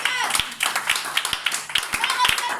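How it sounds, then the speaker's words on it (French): Worshippers in a church service clap their hands in steady, sharp rhythmic beats while a preacher's voice carries on over the clapping. "Lève-toi et dis, donne les mains d'acclamation au Seigneur."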